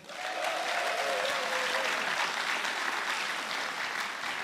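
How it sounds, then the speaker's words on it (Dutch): An audience at a local singing competition show gives the jury steady applause, a dense wash of clapping that swells quickly and holds for several seconds. "Mag ik een applaus voor de jury?"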